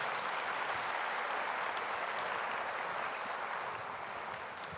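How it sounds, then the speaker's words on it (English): Audience applause at a college admissions talk, a steady, full roar of clapping from a large crowd filling the hall and tapering slightly at the end. "go ahead, you can clap"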